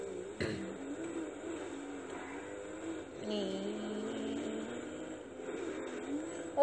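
A car driven in Grand Theft Auto V gives a steady engine drone with a brief revving swell midway, holding at a moderate level with a sharp knock early on and a louder burst at the end.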